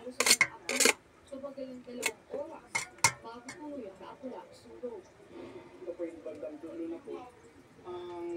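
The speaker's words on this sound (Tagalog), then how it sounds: "Ito na rin yung kanin basmati. Tatransfer natin dito sa kaldero." Cooked basmati rice for chicken biryani is moved into a cooking pot, with intermittent clinks and scrapes of a utensil against the pot. A voice talks over the clatter throughout.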